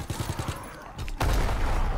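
Gunfire in Call of Duty WW2 Zombies: a quick burst of rapid shots, then a heavier, louder sustained blast of firing, close and dense.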